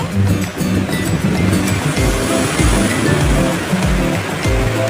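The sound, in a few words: gravy water boiling in pan for paneer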